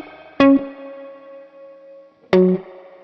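Universal Audio UAfx Golden reverb pedal on tank A, treating electric guitar: two bright plucked notes about two seconds apart, each ringing out into a long, shimmering reverb tail with no talking.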